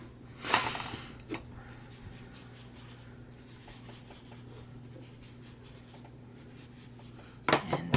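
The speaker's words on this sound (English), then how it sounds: "sometimes I'll go in with the color before and just do some blending just so that it's a little more even" Marker strokes scratch across card stock while colour is blended onto rainbow cards, with a few short close scratchy bursts near the start and end and quiet between them.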